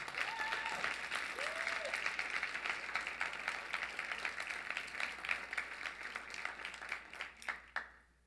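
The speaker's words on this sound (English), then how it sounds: "Can we give them a round of applause?" Sustained applause from a crowd fills the whole stretch, dense clapping at steady loudness that thins and fades out at the very end.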